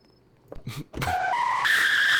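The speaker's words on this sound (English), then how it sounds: "Well, at least you can do some perfect donuts." Car tyres squeal and skid in a steady sustained screech as a vehicle spins in donuts in a video game, following a couple of brief thuds, loud and close.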